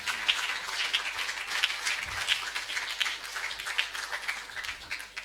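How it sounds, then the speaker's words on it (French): Church congregation at a Sunday communion service clapping hands in a steady rhythmic beat, a dense roomful of claps sounding together at moderate distance. "Est-ce que vous pouvez applaudir pour Jésus?"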